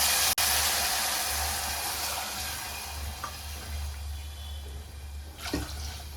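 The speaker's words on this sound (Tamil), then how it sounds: "இப்போ நம்ம எடுத்து வச்சிருக்கிற அரிசி கிளாஸில் 3 டம்ளர் அளவு தண்ணி ஊற்றிக்கலாங்க." Water poured into roasted rice in a pot while cooking Kadamba pongal, a steady close broadband rush of running water lasting several seconds with a brief splashier surge near the end, no voices.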